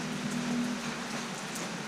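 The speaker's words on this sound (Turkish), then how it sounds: "Yağmur yağıyor." Steady rain patters and hisses continuously on a surface, fairly soft and even, with no voices.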